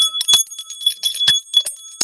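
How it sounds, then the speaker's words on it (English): A handheld bell rung indoors gives several bright metallic strikes with shimmering, sustained ringing tones, close and loud, with no talking. "now before I start, I want to ring my bell"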